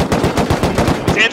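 Light machine gun fire in a video game: a rapid burst of about a dozen loud, close shots in quick even rhythm, ending with a brief ringing tail.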